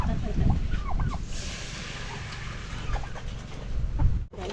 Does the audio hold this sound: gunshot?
no